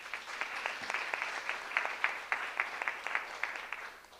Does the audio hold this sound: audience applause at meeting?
yes